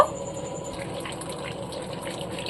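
Cooked raw mango pulp is poured into a cotton cloth set over a bowl, a soft steady wet trickle and slosh, close and quiet, with no talking.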